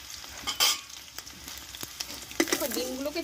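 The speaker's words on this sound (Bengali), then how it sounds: "ডিমটা কিন্তু আমি একটু আটা আটা করে ভেজে নেব" Eggs frying in hot oil, with a steady soft sizzle broken by a few sharp crackles and spatters, close by, while a voice talks over the later part.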